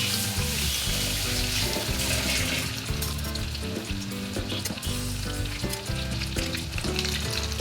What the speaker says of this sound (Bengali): সব দিকটা একটু ক্রিস্পি করে ভেজে নিতে হবে।